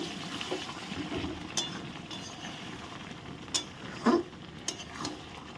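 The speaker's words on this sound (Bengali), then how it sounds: "এখন ভালো করে নেড়ে দিচ্ছি" A spoon stirs meat curry in a pot, giving soft scraping and a low sizzle broken by a few sharp clinks of metal against the pot's side.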